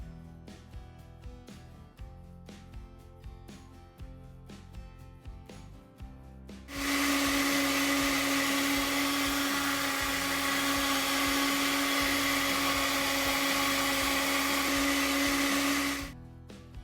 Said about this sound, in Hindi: ब्लेंडर जार को ढक्कन से कवर करेंगे और सारे इंग्रेडिएंट्स बारीक पीस लेंगे।